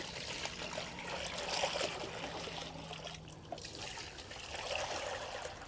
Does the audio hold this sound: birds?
no